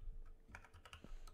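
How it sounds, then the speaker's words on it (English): Rapid keystrokes on a computer keyboard during a Minecraft session, a quick uneven run of close, light clicks with no talking. "YT is typing."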